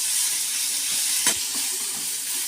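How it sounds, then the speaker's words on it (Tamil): Broad beans sautéing in a pan for a poriyal, a steady close hissing sizzle with one quick clatter of a spoon stirring midway. "போட்டு நல்லா வதக்கிக்கிடுவோம்."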